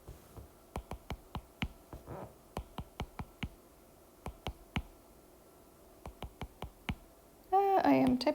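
Light plastic keys on a calculator keypad are tapped in quick, irregular bursts of distinct clicks, close and clear, with brief pauses between runs and a moment of speech near the end.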